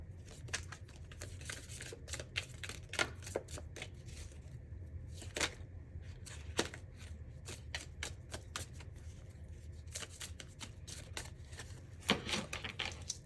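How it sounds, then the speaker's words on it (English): A deck of tea leaf oracle fortune cards being shuffled: soft, close riffling and flicking in a steady run of small bursts, faint and quiet, with no speech over it. "I'm just drawing some tea leaf oracle fortune cards for you."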